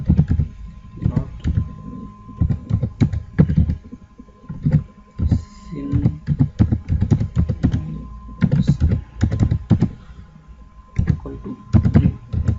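Rapid, uneven clatter of keys as code is typed on a computer keyboard, close and crisp in bursts with short pauses, and a voice speaks briefly in places.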